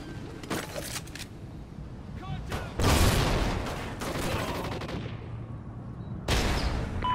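Gunfire in the shooter Call of Duty: Ghosts during a Domination match, with bursts of rapid shots and heavy volleys, some near and loud, others fainter, over a continuous battle din.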